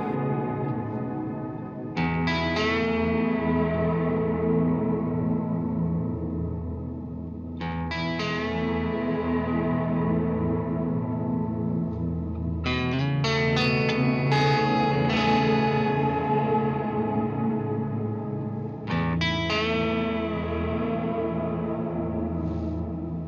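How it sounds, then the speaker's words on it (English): Clean electric guitar chords ring out through a pedal combining analog reverb and delay, with lush reverb and echoing delay trails, several strummed phrases blooming and washing into each other. "Lore is a combination of analog reverb and delay signals interacting with one another."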